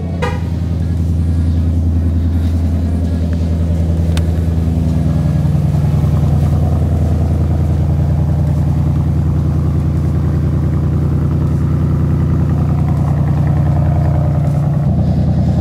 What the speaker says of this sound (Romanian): Dacă cam așa sună un Mustang V8